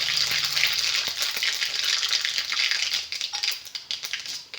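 Mustard seeds and urad dal crackle and sizzle in a hot, dry pan, a dense close spitting hiss with tiny pops throughout, fading slightly toward the end.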